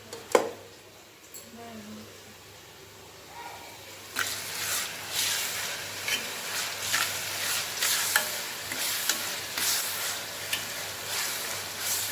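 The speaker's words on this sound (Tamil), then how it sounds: "தக்காளி நல்லா வதங்க" Tomatoes with local masala sauté in a pan, starting quiet and then a steady crackling sizzle with repeated stirring scrapes at an even rhythm.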